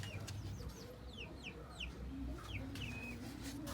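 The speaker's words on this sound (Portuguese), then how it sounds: "E aquela ali é uma franguinha, casal desse franguinho aqui." Chickens, hens and young pullets, cluck softly in a small henhouse, with high chirps from other birds over a low steady background hum.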